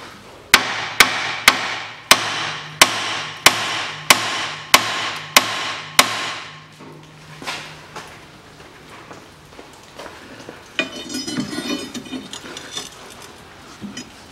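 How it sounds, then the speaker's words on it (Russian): A hammer strikes the steering knuckle of a 1993 Mitsubishi RVR during a front CV joint replacement: about nine sharp, evenly spaced metallic blows close up, followed by quieter clinks and rattling of parts. "Беру молоток и пару хлестких ударов в цапфу."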